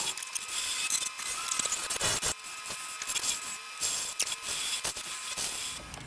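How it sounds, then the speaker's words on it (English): A skew chisel scrapes a spinning wooden pen blank on a lathe, giving loud, gritty hissing in uneven bursts with brief breaks between passes. "Let's try some skew chisel."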